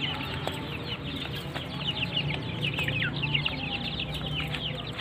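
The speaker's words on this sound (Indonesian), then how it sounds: "Anak-anak ayam baru menikmati makan sore." A flock of one-week-old chicks peeping and clucking as they eat in a semi-free-range coop in the late afternoon, a busy, continuous chatter of many small calls close by with no voices.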